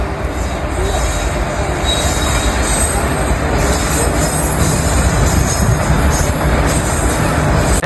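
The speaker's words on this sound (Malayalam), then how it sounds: "ട്രെയിനിലത് എഞ്ചിൻ മാത്രമേ ഉള്ളൂ കേട്ടോ നോക്കിക്കോ എഞ്ചിൻ മാത്രമാണ്" A lone train locomotive engine passes at Vyttila, Kaniyampuzha: a steady, loud rumble with metallic wheel squeal and faint clicking of wheels on rail throughout, no voices.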